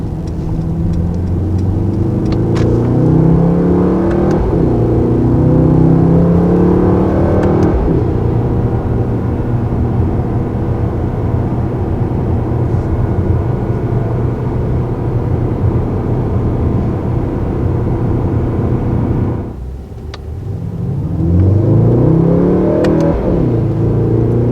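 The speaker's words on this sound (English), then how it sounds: "Turns out we actually may have had the exhaust in the quiet mode" A 577 hp 2019 Mercedes-AMG GT 63 4-Door with its exhaust in quiet mode drives along, a steady deep engine drone rising with a couple of acceleration sweeps, dipping briefly, then revving up again.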